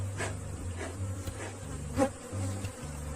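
Africanized honey bees buzz steadily around a beekeeper's mask, a close, continuous insect drone with a few louder passes as individual bees come near.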